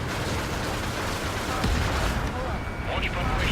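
Missile launch from a fighter jet in the air-combat video game Ace Combat 7: a loud, continuous roaring rush with bursts of noise, heard alongside game radio voices.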